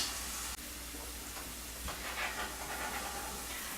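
Garlic frying in a tilted pan, a steady quiet hiss and sizzle continuing throughout with no talking over it.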